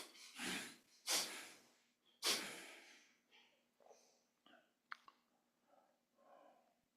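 Slow meditative breaths during a guided Buddhist meditation session: several strong, close exhalations in the opening seconds, followed by softer, fainter breaths and small mouth sounds in a quiet room.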